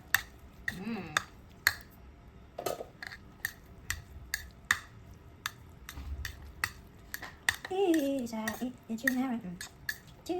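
Rose-sauce noodles being stirred in a pot, with repeated sharp clinks of a utensil against metal in an uneven rhythm and a brief voice near the end.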